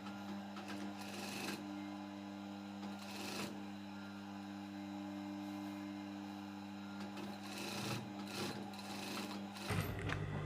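A sewing machine runs steadily while stitching a fabric waistband on a skirt, a continuous mechanical hum with bursts of rapid needle clatter, close and alone with no voices.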